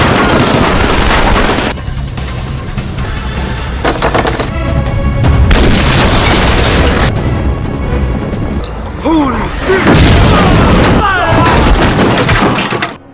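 Rapid bursts of gunfire erupt during a film shootout between police and a former war general, loud and dense with booms and shattering debris, continuing almost without pause and ending abruptly.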